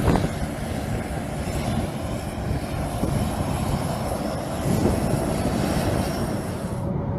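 F-35 fighter jets launching one after another at full power give off a loud, sustained jet-engine roar with a rising high whine, continuous and close by.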